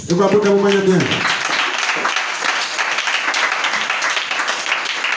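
Church congregation breaks into sustained applause, a dense wash of clapping mixed with cheering voices, after a single loud voice opens briefly at the start.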